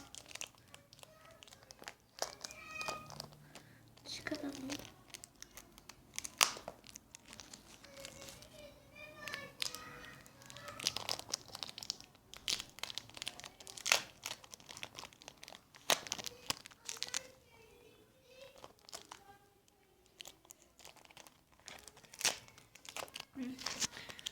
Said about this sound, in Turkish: Ya yırttım bantı yanlışlıkla.